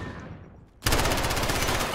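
Rapid automatic gunfire bursts out loudly in a video game after a quieter lull, a sustained stream of shots pumped into a dead body lying on the bomb.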